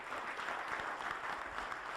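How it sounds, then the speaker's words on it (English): An audience applauds after a conference session, a continuous even wash of clapping filling the short stretch at moderate level. "Could we have a round of applause"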